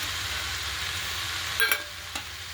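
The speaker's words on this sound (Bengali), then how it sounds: "আমার কপি ভাজাটা কিন্তু হয়ে গেল" Cauliflower fries in a pan with a steady, moderate sizzle, broken near the end by a couple of sharp clinks and scrapes from stirring.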